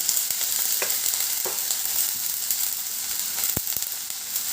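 Spices sizzle in hot oil as a spoon stirs them around a pan, with steady close frying hiss and a few sharp scraping clicks, and no talking.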